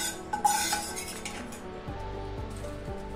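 Fried dry red chillies are scraped from a pan onto a plate: close metallic clinks and spoon scrapes early, then quieter low rattling, no speech.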